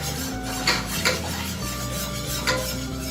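A whisk stirs gravy in a pan for a chicken noodle casserole, its steady scraping strokes close and continuous with a few brighter clinks against the metal, no talking.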